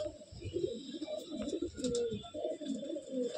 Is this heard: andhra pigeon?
yes